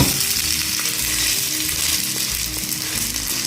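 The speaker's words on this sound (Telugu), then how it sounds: "ఒక్క స్పూను నెయ్యి వేసుకుని రెండవ రెండవ వైపు కూడా కాల్చుకుంటే" Puffed-rice uttapam fries in ghee on a hot pan as the second side cooks, a steady close sizzle and crackle running without pause, with no talking.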